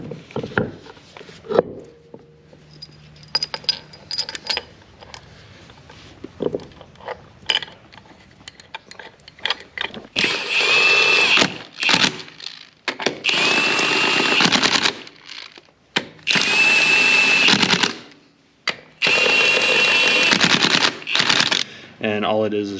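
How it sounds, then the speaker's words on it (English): Bolts being backed out of a Toro Multiforce snow plow mount with a ratchet or impact tool, loud close bursts of rapid mechanical rattling and clicking separated by pauses, after some quieter handling noises. "So I've got the bolts in here, take those back out."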